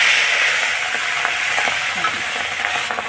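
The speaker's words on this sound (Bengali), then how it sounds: "সব মাছগুলো একবারে ভেজে নেব।" Tengra fish frying all at once in hot oil, a steady close sizzle with faint stirring scrapes, no talk, lasting about three seconds.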